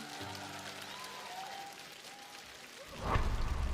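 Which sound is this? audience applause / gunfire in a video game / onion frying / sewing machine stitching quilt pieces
audience applause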